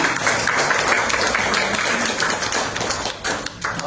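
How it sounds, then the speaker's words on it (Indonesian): An audience claps steadily at an Indonesian family-economy seminar in Karanganyar, a loud, sustained round of applause from a crowd that runs without a break and tapers slightly near the end. "Tepuk tangan."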